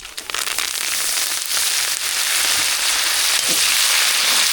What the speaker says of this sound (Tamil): எண்ணெய் சூடாகிடுச்சு கடுகு சேர்த்துக்கலாம் கடுகு நல்லா புரிஞ்சிச்சு கருவேப்பிலை சேர்த்துக்கலாம்